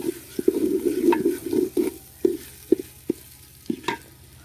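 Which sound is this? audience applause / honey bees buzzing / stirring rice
stirring rice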